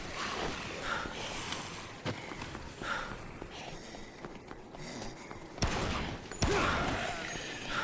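Submachine gun fire in the Xbox 360 game Dead Rising: a few sharp, loud cracks and bursts stand out over a dense wash of game noise.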